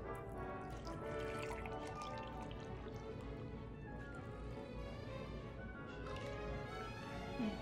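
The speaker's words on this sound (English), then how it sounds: "let's pour it into our mug." Hot chocolate poured from a glass into a mug, a steady soft liquid pour with light drips, close and continuous throughout.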